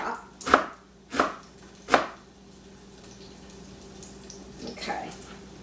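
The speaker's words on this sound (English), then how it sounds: "So we give it a nice quick chop." Knife chopping cabbage on a cutting board, three sharp, evenly spaced chops close by, followed by a quieter stretch with faint kitchen sounds and a softer final cut.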